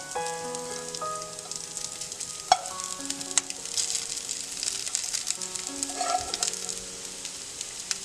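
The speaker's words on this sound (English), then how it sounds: "Now it's time to add cooked rice noodles." Cooked rice noodles being stirred into a seasoning frying in a pan, heard as a dense, even sizzle with a few sharp clinks and scrapes, near and moderately loud, without speech, while faint tonal music plays behind it.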